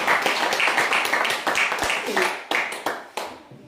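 A church congregation at a French worship session claps in a steady rhythm, a run of sharp hand claps under and between voices that thin out toward the end.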